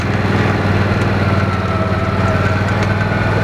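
A four-wheeler ATV engine runs steadily and loud while driving a lap around a flat, fairly narrow dirt track, its buzzing drone continuous and close with no talking.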